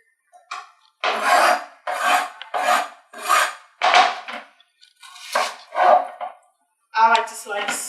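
A knife slices through an onion on a cutting board while sofrito is being made, giving repeated close, rasping strokes in an irregular rhythm with brief pauses between cuts, and no one talking.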